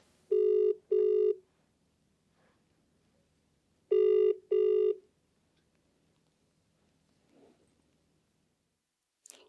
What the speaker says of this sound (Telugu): Phone lift చేస్తలేడు.